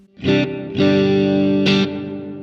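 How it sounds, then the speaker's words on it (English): Strummed electric guitar chords played through a VOX AC30 amPlug 2 with its hall-style reverb, three loud, sustained chords each trailing a brief, fast-decaying reverb. "It sounds like a big hall style reverb."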